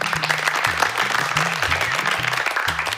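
Audience applause at a Yoruba children's game show, a steady, dense wash of clapping lasting throughout, with a low tonal hum or music running underneath.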